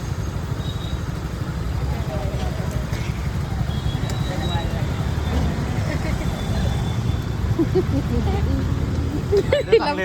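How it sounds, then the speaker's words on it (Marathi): Road traffic on the way to Hadapsar, a broad, steady low rumble of engines and tyres that runs continuously and loud, with voices talking over it near the end. "हे ट्रॅफिक."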